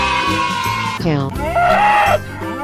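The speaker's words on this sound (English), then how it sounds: "Cow." Cartoon cow giving a wavering, drawn-out moo, loud and close, amid busy animated soundtrack noise and squeaky voices.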